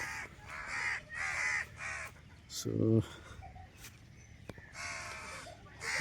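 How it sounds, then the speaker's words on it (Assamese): Several loud crow caws in short bursts, with a brief clucking sound midway and outdoor background noise throughout. "কাউৰীয়ে মোৰ পিছা কৰে মই নাজানো কিয়"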